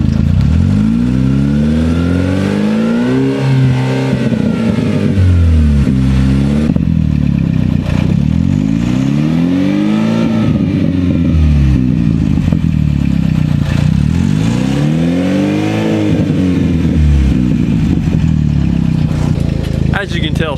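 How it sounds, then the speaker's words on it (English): A Pontiac Solstice GXP with an aftermarket exhaust and catalytic converter still fitted revs up and down in repeated rising and falling sweeps, loud and close, with crackling pops as the revs drop. "give y'all a listen to that exhaust that's firing straight out under."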